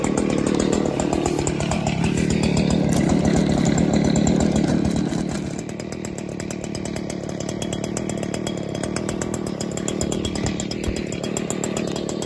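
A Stihl SH 56C gas-powered shredder vac runs steadily and loudly close by, with a constant motor drone that eases slightly in pitch and level partway through as it works over trimming debris.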